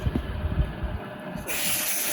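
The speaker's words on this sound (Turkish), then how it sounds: "İnatla burada havayla temizliyor süpürgeyi." Compressed air blows through a vacuum cleaner to clean it, a loud steady hiss that shifts into a brighter, stronger rush partway through.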